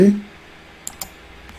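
A couple of quick, faint clicks from a computer mouse while working in Blender software, heard on their own right after a brief voice at the start.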